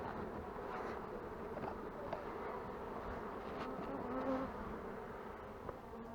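Honeybees buzz at an open beehive during a brood check, a dense continuous hum of many insects close by, with occasional louder passes.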